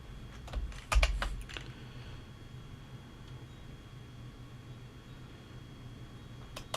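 A few quick keystrokes on a computer keyboard while setting up CP/M-86 on a thin client: a short cluster of crisp clicks near the start, then steady low hum, with one more faint click at the very end.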